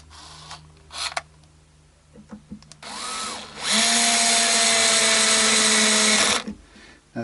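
A small power driver set to its lowest torque drives tuner screws on a Faith Venus acoustic guitar: a brief rising whir, then a steady, close, high whine lasting about three seconds, framed by a few quiet handling knocks.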